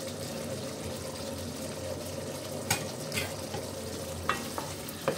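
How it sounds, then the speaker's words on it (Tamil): Sautéed brinjal goes into a simmering tamarind gravy for a temple-style brinjal and mochai prasadam, a low bubbling sizzle under wet stirring with a few sharp spoon clinks against the pan, close and moderate. "இந்த டைமில் கத்திரிக்காயை போட்டுக்கலாம்."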